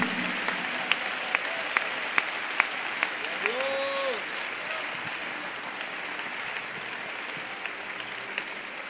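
A church congregation claps and cheers in praise, sustained crowd applause with some sharper individual claps and a brief sung or shouted tone rising through the middle.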